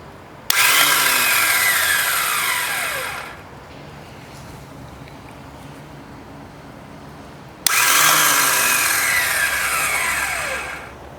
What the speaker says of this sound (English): Starter spinning.